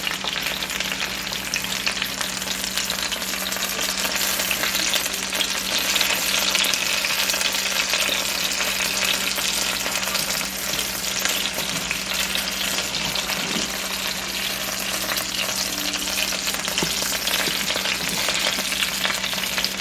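Fennel frying in a pan and being flipped with small tongs, producing a loud, continuous close sizzle for the whole stretch with faint scrapes and taps as pieces are turned; no one speaks.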